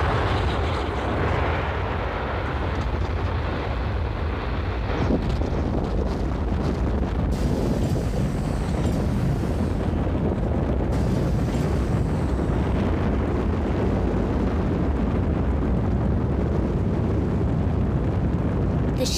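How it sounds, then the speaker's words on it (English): A space shuttle launch with its main engine and two solid rocket boosters rumbles and crackles in a loud, continuous broadband roar that never lets up, with wind-like buffeting and a voice faintly underneath. "three powerful rockets, the main rocket engine and two solid rocket boosters on the sides"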